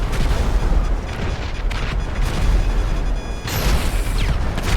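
Explosions in the GTA V online game give repeated heavy booming blasts, dense and loud, rolling one into the next with a sharp burst near the end and no pause between them.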